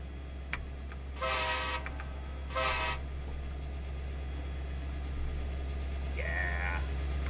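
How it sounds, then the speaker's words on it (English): A car horn toots twice in short bursts with a fainter third toot later, heard from a distance over a steady low rumble of a train pulling out of New Barnet station. "I heard a horn. I think that was just a car."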